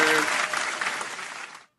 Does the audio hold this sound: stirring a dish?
no